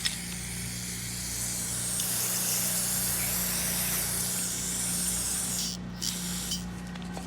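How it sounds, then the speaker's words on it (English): Carburetor cleaner sprayed onto a lawn mower carburetor, a loud continuous aerosol hiss lasting several seconds, briefly cutting out near the end before short further spurts. "And then start spraying this"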